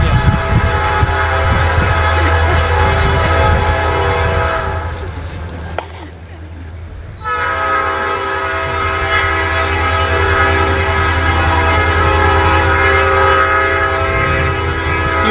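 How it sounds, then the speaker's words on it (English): A train passes near a winter garden, a loud steady rumble with sustained horn-like harmonic tones lasting throughout, briefly dipping in the middle before resuming at full strength. "We'll wait for the train to go by."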